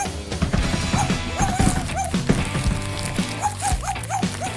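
Cartoonish dog barks and yips pop out repeatedly over busy music in a Sprunki game, with a few whimpering squeaks scattered between them.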